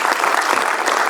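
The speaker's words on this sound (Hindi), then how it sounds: "ताली बजाओ, ढंग से बजाओ, राइट?" An audience in a lecture hall claps in loud, dense, continuous applause that fills the whole moment.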